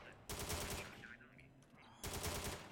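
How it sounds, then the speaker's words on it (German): Bursts of automatic gunfire in the zombie shooter game War Of The Zombie, two loud rapid volleys separated by a short gap filled with fainter battle noise. "Komm schon, schieß weiter, immer schon weiter schießen."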